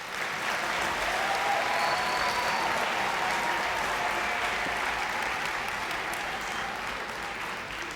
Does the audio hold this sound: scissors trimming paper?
no